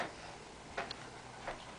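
A bird-themed wall clock in a freshly painted dining room ticks faintly, two soft ticks spaced about 0.7 seconds apart over a quiet room hum.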